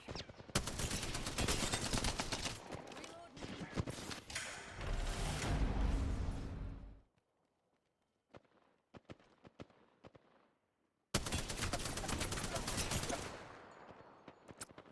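Gunfire in the video game Apex Legends: dense automatic bursts for several seconds, a pause with scattered faint shots, then another loud sustained burst.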